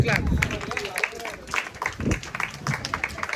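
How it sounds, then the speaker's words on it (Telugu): A crowd applauds and cheers at a home celebration in Guntur, with steady clapping mixed with voices and chatter throughout. "big clap"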